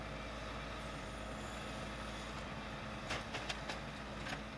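Waste collection truck at a recycling sorting centre, a low, steady engine rumble heard from a distance with a few soft clanks and hisses near the end, no talk.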